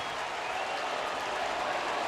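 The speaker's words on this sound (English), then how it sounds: "big crowd getting on their feet here at Comerica Park" A big crowd cheers and applauds at Comerica Park during a Detroit Tigers baseball game against the Houston Astros, a dense steady roar of clapping and cheering filling the whole stretch.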